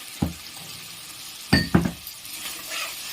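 Tomato, ginger-garlic and green chilli paste is sautéed in a pan, with a few sharp spoon clinks against the vessel over a faint background sizzle and no talking.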